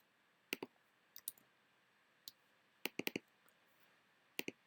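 A computer mouse clicks while a file is chosen: sharp, close clicks in small clusters, mostly single or double, spaced over a quiet background.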